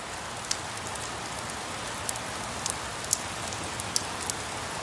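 Steady rain pours down in an even, dense hiss, with a few sharper drop ticks standing out now and then; no voices.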